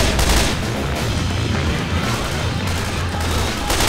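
Dense, continuous gunfire fills the scene in Left 4 Dead 2, loud and close, with overlapping rapid shots and booms forming a nearly unbroken barrage.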